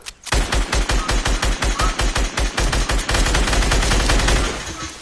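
Rapid automatic gunfire in a Fortnite squads match, a loud, close, sustained burst of evenly spaced shots that runs for several seconds after a brief pause, with no talk over it.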